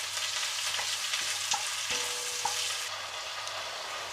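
Lardons fry in a pan with garlic and chorizo, giving a steady, fairly loud sizzle and crackle with occasional stirring clicks throughout.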